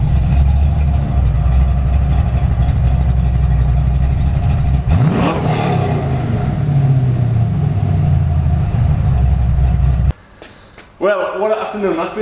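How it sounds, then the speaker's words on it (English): A Chevrolet C10 truck with a 5.3 LS V8 rumbling at idle, a loud, steady low engine drone that swells briefly, then drops away near the end as people talk. "Taking this LS powered C10 out for a spin has been absolutely fantastic."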